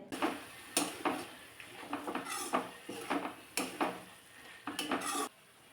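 Tomato being sautéed in a pan, with a faint sizzle beneath a series of distinct metallic spatula scrapes and knocks against the pan in irregular bursts.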